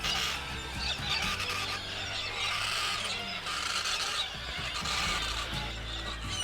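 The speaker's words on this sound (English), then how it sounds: "The bird noises are insane." Galahs calling in the Flinders Ranges of the Australian outback at dusk, a dense chorus of harsh, screechy cries rising and falling in overlapping waves at a moderate distance, with no talking.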